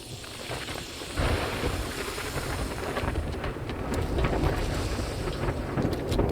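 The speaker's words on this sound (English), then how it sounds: "we're getting close to the end of this storm, I hope" A thunderstorm rages in the video game 7 Days to Die, a steady roar of wind and heavy rain with low rumbling thunder swelling underneath, loud and continuous throughout.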